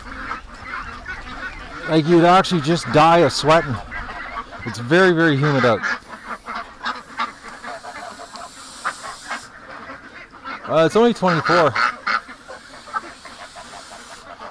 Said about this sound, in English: Okay, Geese, what are you doing hiding in here?